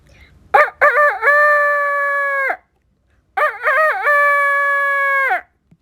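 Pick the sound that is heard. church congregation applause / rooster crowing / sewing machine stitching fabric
rooster crowing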